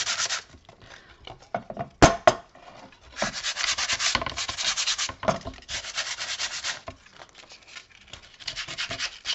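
An old wooden cutting board is hand-sanded without a sanding block: close, rhythmic scratchy strokes in steady back-and-forth runs, with a couple of brief knocks early on.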